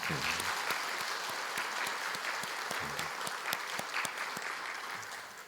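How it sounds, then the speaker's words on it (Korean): A church congregation claps in blessing, a dense, steady burst of applause filling the room and easing off near the end, with faint voices beneath. "우리 축복의 박수 한번 할까요?"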